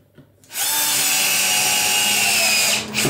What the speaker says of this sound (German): so ein Zentrierbohrer, der in der Mitte halt eine Bohrung macht, dass die Schraube exakt reingeht